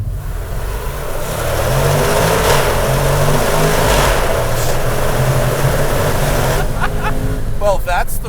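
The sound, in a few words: Jaguar F-Pace SVR engine revving, heard from outside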